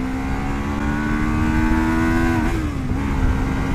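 A Lexmoto LXR 380 SE motorcycle engine revs hard up to its rev limiter at just over 9,000 RPM on a slippery road, a loud, continuous rising drone near the microphone that holds steady and then dips briefly.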